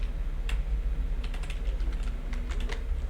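Computer keyboard keys pressed for a copy shortcut while working in a database query, a few quick crisp clicks and taps close by over a steady low hum, no talking.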